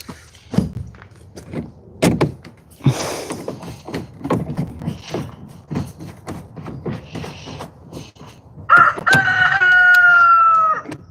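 Footsteps and thuds, some hen clucking, then a rooster crows loudly and close for the final couple of seconds.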